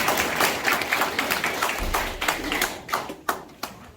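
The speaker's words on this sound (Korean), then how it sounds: "서울에서 오신 동무님들께 죄송하지만 박수 한번 보내주십시오" Scattered hand clapping from people gathered at an alumni preservation society's annual general meeting, greeting guests from Seoul; sharp individual claps thin out toward the end.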